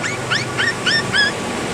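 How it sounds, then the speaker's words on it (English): Puppies found in Bali give a quick series of high, squeaky whimpering yelps, about five short rising cries close by over faint background noise. "barking, squeaking."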